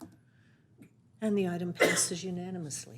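A single sneeze bursts out partway through a city council meeting, close and sharp, overlapping someone speaking at a microphone.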